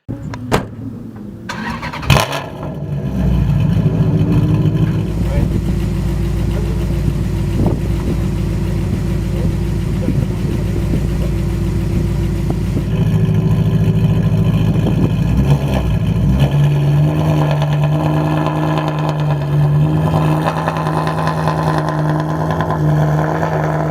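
A Maserati GranTurismo Trofeo V8 with a stripped cabin and no sound insulation fires up, then holds a loud, steady idle before the revs climb into a sustained, rising engine roar, heard close with no talking.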